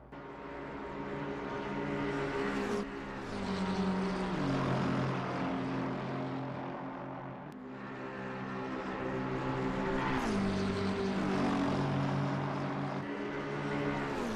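A GT3 race car in a video game held at full throttle on the Nürburgring, a loud, continuous engine roar that climbs in pitch, drops sharply at gear changes, then climbs again, with no talking.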